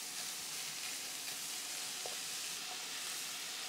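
Chopped vegetables, including mushrooms, spinach, leek, chives, broccoli and cauliflower, cook in a pan for black bean stew, giving a soft, steady hiss that stays even and fairly faint throughout, with no voices.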